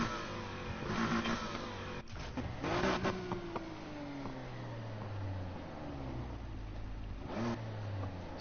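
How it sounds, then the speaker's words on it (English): Ferrari engine in the Need for Speed Heat racing game, revving in several bursts with falling pitch between them, loud and near, with no voices. "That's a Ferrari engine."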